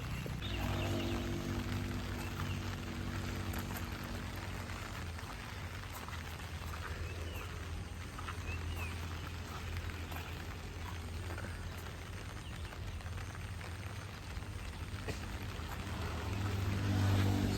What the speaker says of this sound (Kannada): ಬಟ್ ಬೆಳಗ್ಗೆ ಸಿಕ್ಕಾಬಟ್ಟೆ ಮಳೆ ಶುರು ಆಗಿದೆ ಕುಂದಾಪುರದಲ್ಲಿ